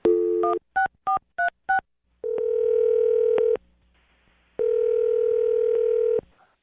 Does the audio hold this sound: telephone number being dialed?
yes